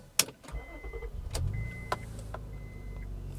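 A 2000s Acura car started with a key: a sharp click, a short chiming tone, the starter cranking, then the engine catching and settling into a steady low idle, close up.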